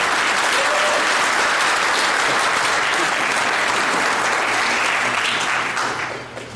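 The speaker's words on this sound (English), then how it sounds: "Give a round of applause." Audience at a San Diego Comic-Con 2024 panel bursts into loud, sustained applause, a dense wash of clapping from a large crowd that holds steady for several seconds before easing off at the end.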